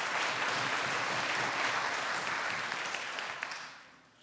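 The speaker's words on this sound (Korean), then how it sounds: "선생님들, 박수 한번 쳐주세요." A church congregation applauds for the musicians, a steady wave of clapping that fades out toward the end.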